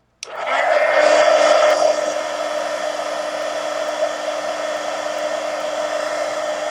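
A heat gun blasts a mixed media art journal page dry. It kicks on abruptly and runs as a loud, constant airy whoosh with a steady whine, easing slightly after the first couple of seconds.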